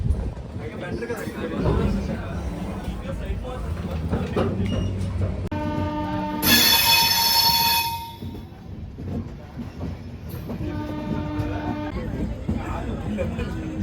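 A train bound for Shirdi rumbles through a junction with rhythmic rail clatter, and a loud horn blast sounds midway; voices talk over it at times.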